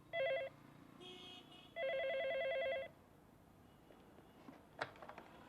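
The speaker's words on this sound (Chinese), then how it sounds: "王松，你电话。" A telephone rings indoors in two bursts of electronic trilling: a short one at the start, then a longer one after a brief pause. Afterward comes quiet room tone with a few small knocks.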